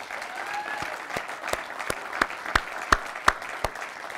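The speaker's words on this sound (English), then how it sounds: "I think another round of applause is in store for the volunteers" Convention attendees at a Denver wrap-up applaud the volunteers, with scattered, fairly soft clapping and a few louder distinct claps standing out near the front.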